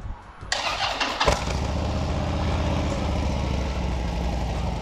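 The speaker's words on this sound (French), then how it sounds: "Je vais vous la démarrer pour écouter la ligne d'échappement." A Harley-Davidson Dyna Street Bob starts up close by: a short starter whir, the engine catching, then a loud, steady, deep exhaust rumble as it settles into idle.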